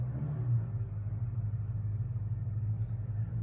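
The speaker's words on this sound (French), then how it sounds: "Excusez-moi pour le bruit de la moto." A motorcycle engine rumbles low and steady close by, holding a constant drone throughout with no voices.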